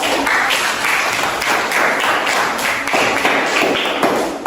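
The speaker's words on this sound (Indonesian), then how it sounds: "Tepuk tangan buat" A group of children in a classroom claps steadily and energetically, a dense patter of hands at close range, with no talking over it.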